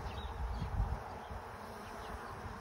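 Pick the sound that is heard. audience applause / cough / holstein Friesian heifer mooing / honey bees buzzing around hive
honey bees buzzing around hive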